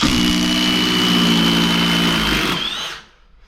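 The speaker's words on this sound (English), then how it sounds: "For the hammer drills, the new one is definitely faster." A Milwaukee M18 cordless hammer drill runs at high speed, a loud, steady motor whine with a droning hum that holds for about two and a half seconds, then winds down and stops.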